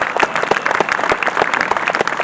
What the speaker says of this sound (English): I think Mimi Howard deserves a great big round of applause.